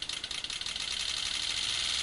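Rapid, steady pulsing from a water fuel injection system run as if at highway speed, about 60 miles an hour, a continuous buzzy vibration that fills the clip at moderate level with no talking.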